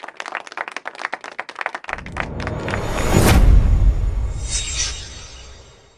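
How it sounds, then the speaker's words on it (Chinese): A crowd at an auction claps in a quick patter that swells into full, loud applause, then slowly fades. "让我们掌声恭喜他"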